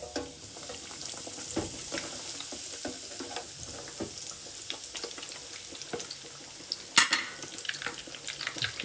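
Spam parmo lowered into a deep fat fryer, giving a steady crackling sizzle of hot oil with bubbling and a brief clatter near the end.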